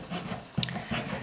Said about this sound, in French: C'est en utilisant donc la râpe, mais le côté le plus agressif